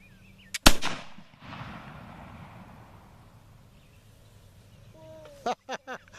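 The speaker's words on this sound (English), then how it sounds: "the back trigger sets it, Right. the front trigger shoots it." A .50 caliber black powder Hawken flintlock rifle goes off once outdoors, a sharp loud crack with a rolling tail that fades over a second, followed by quiet and a few brief voices near the end.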